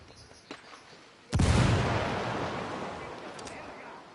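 A frag grenade bursts in Tom Clancy's Ghost Recon Wildlands, a sudden heavy boom after a couple of faint clicks, its rumbling blast decaying slowly over several seconds.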